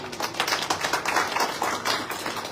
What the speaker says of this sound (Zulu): Sikushayela ihlombe lokho.